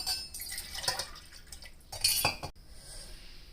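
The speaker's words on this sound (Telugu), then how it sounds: "2 గ్లాసులు వాటర్ పోద్దాము." A short splash of water being poured into a bowl for cooking rice rava, with light clinks of metal and dishware around it, fairly quiet and close.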